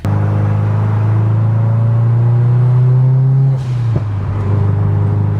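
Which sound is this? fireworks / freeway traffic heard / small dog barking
freeway traffic heard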